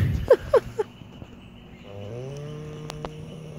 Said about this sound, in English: Isn't this thing snoring?